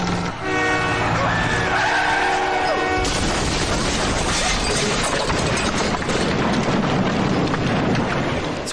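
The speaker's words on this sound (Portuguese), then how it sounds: "fazendo ele bater na frente com um trem." A cartoon crash of a car into a train: a held horn-like tone breaks off into a loud, sustained roaring rush of noise that continues to the end.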